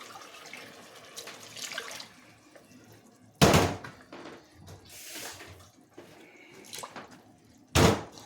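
Water runs from a kitchen tap while a green bean and coconut milk dish is cooked, in two short, fairly loud bursts with quieter kitchen clatter between them.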